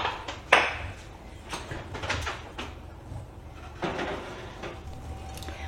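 Muffin tins go into a kitchen oven with a sharp metallic clunk near the start, followed by quieter knocks and scrapes of the rack and door against low room noise.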